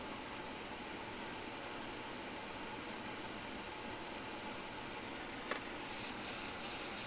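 An airbrush sprays Timbertech paint in a steady, close, even hiss that carries on throughout, with a small click and a brighter, louder hiss near the end.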